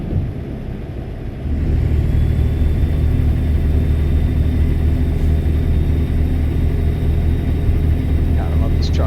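Truck engine in the American Truck Simulator game, a steady low droning rumble that rises in level early on and then holds constant, with a faint high whine above it.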